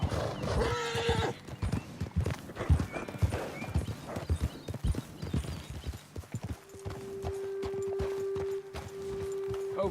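Horses in the video game Red Dead Redemption 2 walking with steady clip-clopping hooves at close range, one horse letting out a whinny, a low sustained tone entering in the later seconds.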